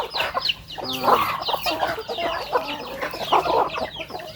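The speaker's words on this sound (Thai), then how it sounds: "โอ้ไก่หลายตัวเลย" A flock of chickens on a family farm clucks and squawks in overlapping bursts nearby, with one brief crow-like call rising above the chatter, fairly loud and continuous.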